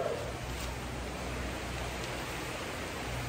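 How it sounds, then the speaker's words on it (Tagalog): Steady rain falls outside in a dense, even hiss that stays constant throughout with no talk over it. "Umuulan!"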